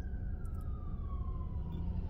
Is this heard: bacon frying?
no